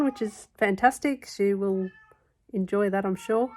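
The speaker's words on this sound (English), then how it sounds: "that's my cat going off in the background." A pet cat in Queensland that has just caught a mouse during a mouse plague gives a single drawn-out meow. The meow is close but partly overlapped by a person talking before and after it.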